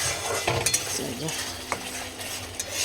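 Spice paste sautés in a pan while a utensil stirs and scrapes through it, a few clinks and scraping strokes over a low sizzle, close and moderately loud with no talking.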